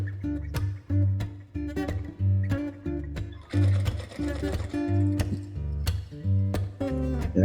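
Sewing machine stitching a zip onto the neck of a kameez, running in short repeated bursts with brief pauses between them, close and steady.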